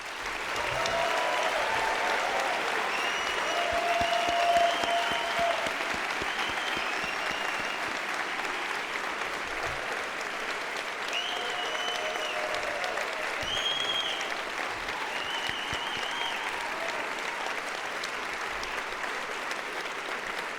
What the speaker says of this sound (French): applaudissons une dernière fois nos chaleureux diplômés.